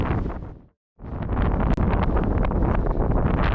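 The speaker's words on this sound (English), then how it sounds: "On tops here, wind's really bad." Loud, buffeting wind roaring across the microphone on a hilltop near Alport Castle, cutting out briefly before surging back in a constant heavy rumble.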